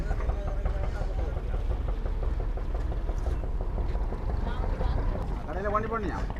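A boat engine rumbles low and steady on the water during a crossing from Karainagar to Kayts in Jaffna, while people talk over it, with some wind buffeting.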